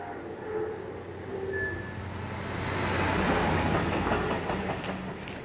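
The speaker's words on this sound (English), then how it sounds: "we see the pass of DR 73935 coming through 28 minutes early" Rail vehicle DR 73935 rumbles through Water Orton station, a broad, steady roar of wheels and rolling stock building to a loud close pass with rhythmic clicking over the rails.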